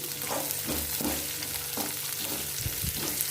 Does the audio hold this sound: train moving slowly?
no